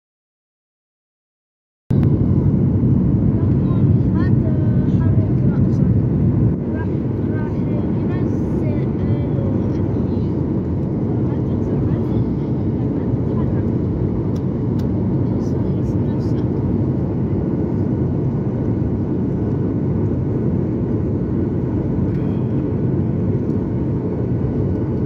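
Cabin of an airliner on approach for landing in Montenegro, a loud, steady engine roar that starts abruptly and then settles into a constant drone, with faint talk beneath it.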